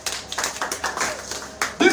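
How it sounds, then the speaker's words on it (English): A church congregation claps in uneven bursts, with separate claps and short flurries of hand slaps that rise and fall under a speaking voice. "Can you clap for them?"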